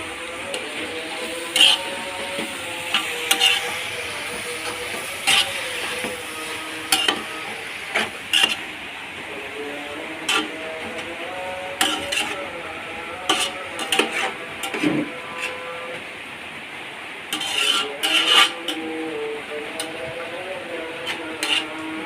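Tomatoes are stirred into a frying pan of chicken biryani with a spoon, giving repeated clicking scrapes and knocks against the pan over a low sizzle, near and fairly loud, with a little talk.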